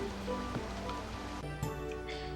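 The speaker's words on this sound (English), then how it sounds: "Alright, start of a new day, and it's raining!" Steady rain hiss from the farming video game Harvest Moon: Animal Parade, a continuous broadband wash at moderate level with a soft tonal game-music layer, and no voices.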